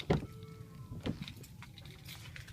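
A 2013 Mercedes ML350 4MATIC door shuts with a dull thud, followed by a second clunk and brief lock-mechanism sounds, close by and fairly quiet.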